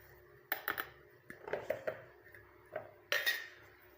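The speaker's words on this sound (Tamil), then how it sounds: "ஒரு மிக்சி ஜார் எடுத்துக்கோங்க" A mixer jar handled before grinding roasted curry leaves: several sharp clinks and clatters of the jar and lid, close and distinct, spaced irregularly over a few seconds in a quiet room.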